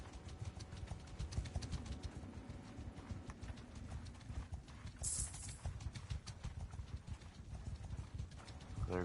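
Cavalry horses trotting in a medieval video game, hooves clip-clopping in a steady, dense rhythm close by, with a faint occasional whinny and game ambience underneath.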